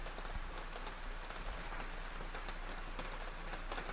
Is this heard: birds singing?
no